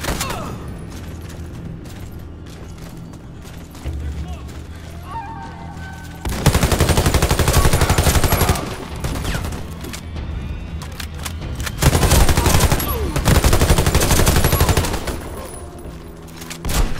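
Shielded mounted guns firing in Warface, with dense, loud bursts of rapid automatic gunfire in two long volleys, separated by quieter stretches of mechanical clatter and ambient battle noise, with some voice audible.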